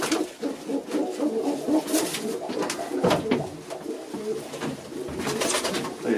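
Several domestic pigeons coo in a loft during a vaccination session, soft, repeated throaty calls overlapping close by, with light rustling and wing shuffles and no speech.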